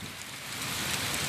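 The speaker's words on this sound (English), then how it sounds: "it's some hard rain and it's a cold front" Heavy rain from a cold front pours down in a dense, steady hiss, loud and close, with no voices.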